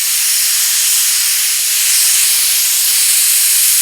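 Loud, close, continuous hiss of a spray gun laying a blended coat of white paint on a pro street Mustang, steady airy spray with no pauses.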